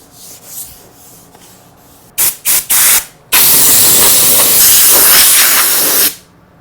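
A shelf's finish gets scuff sanded between coats, heard as three short loud rasping strokes, then one long sustained harsh scrubbing run that stops abruptly.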